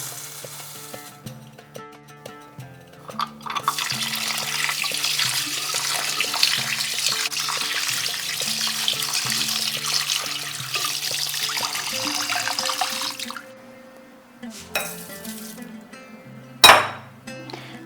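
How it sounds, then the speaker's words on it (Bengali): Rice rinsed with water in a strainer, heard as a steady hiss of running water with light clinks and stirring, fading to quieter handling near the end, with no talking. "চালটাকে আমি প্রথমে ধুয়ে বেশ ভালো করে পরিষ্কার করে নেব।"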